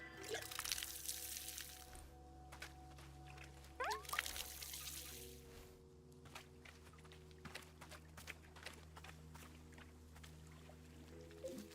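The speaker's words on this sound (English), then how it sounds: "You have successfully watered the plant egg." Watering can pouring water onto a plant egg in the cozy game Wanderstop, a faint trickling splash over soft, steady ambient music tones, quiet and brief before fading into the background score.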